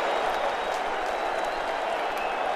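A football game broadcast crowd cheers as Minneapolis works down the field, a dense continuous roar of applause and voices, loud and steady throughout.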